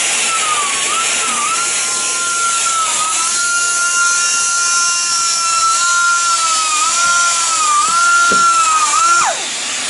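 Power tool sanding an aircraft radome at low RPM, a continuous shrill whine with a slightly wavering pitch that holds for nearly ten seconds before winding down abruptly, with a few faint knocks near the end.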